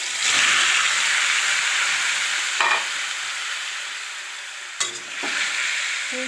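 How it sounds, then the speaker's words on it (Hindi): Paneer pieces dropped into already hot oil in a kadai, giving a steady loud sizzle with a few brief clinks and stirring scrapes, no talk. "अब हम इसमें डाल देंगे जो हमारे पास पनीर के पीसेज हैं उनको"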